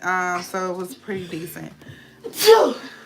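A single sharp sneeze bursts out near the end, loud and close, following a stretch of someone talking.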